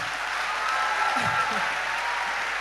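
An awards-ceremony audience applauds top WASSCE students, a broad, moderate clapping wash with a voice briefly rising above it.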